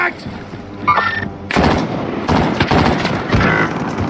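Video game shootout gunfire on a PC battle royale set on Alcatraz: bursts of sharp shots and rapid automatic fire, loud and close, clustered after a quieter opening with a short voice.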